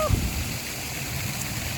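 Water splashes and streams near a waterfall in a neighbourhood park, a steady broadband wash with a brief burst near the start.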